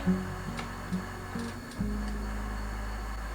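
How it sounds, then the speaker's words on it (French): A failing freezer gives a low mechanical hum with a few soft clicks, then a deeper, louder drone kicks in and holds steady. "Le congélateur est toujours en train de décéder."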